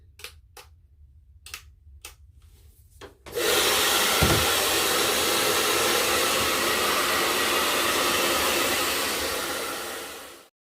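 A hair dryer switches on and roars steadily for several seconds, loud and close, heating peel-and-stick contact paper, then winds down, after some quiet clicks and taps.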